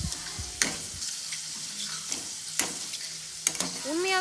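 Wheel chips frying in hot oil, a steady close sizzle with a few sharp clinks and scrapes of a utensil stirring the pan.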